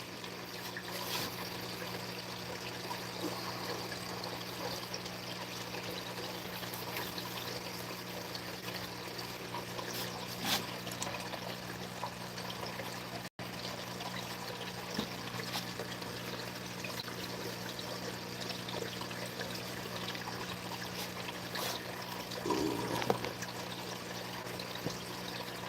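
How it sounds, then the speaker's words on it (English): Water drips and trickles off wet garden plants in a steady, close, continuous patter with no talk, a brief sharper splash near the end. "Dripping water."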